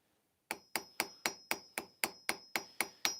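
A hammer strikes a metal shop trash can about ten times at an even, steady pace, each blow a sharp ringing clang, close and alone with no talking.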